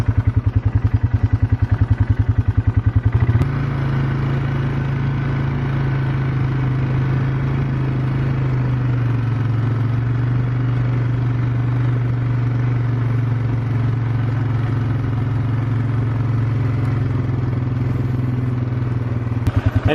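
An ATV engine runs steadily on a narrow trail, a loud continuous rumble that shifts pitch a few seconds in and then holds a low drone, close and alone with no talk.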